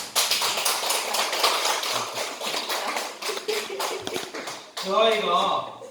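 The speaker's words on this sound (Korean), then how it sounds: "우리 박수 한번 칩시다" Congregation clapping hands together at a church gathering, a dense patter of many claps filling the space for several seconds, with voices mixed in underneath and a louder burst near the end.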